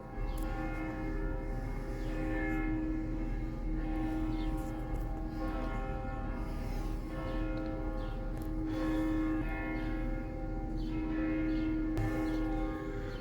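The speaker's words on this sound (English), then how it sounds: "Church bells are going weird." Church bells ring continuously in La Crosse or Onalaska, Wisconsin, at 4:20, a dense, sustained metallic clang with layered overtones filling the whole stretch, loud and steady with no talking.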